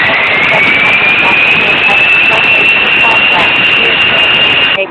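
Airbus A321-200 jet engines spooling up for takeoff in the Infinite Flight simulator at Los Angeles runway 25 right, a loud, steady roar with a rising high whine held throughout.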